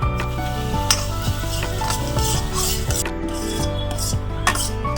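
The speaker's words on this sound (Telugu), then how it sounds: "ఇప్పుడు ఒక అరకప్పు బొంబాయి రవ్వ వేసి వేయించుకుందాం" Bombay rava (semolina) roasting in a kadai for kajjikayalu sweets, stirred continuously with gritty rasping scrapes and light sizzle, close and steady with regular stirring strokes, no voices.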